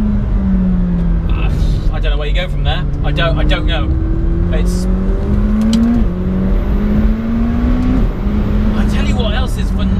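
A McLaren 720S engine revs loudly and close, its pitch climbing in repeated sweeps with quick drops at each gear shift, while someone talks over it.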